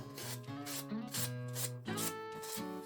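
A wooden puukko knife sheath is rubbed with 80-grit sandpaper in short repeated strokes, close and fairly quiet, with a steady back-and-forth scraping rhythm and no talking.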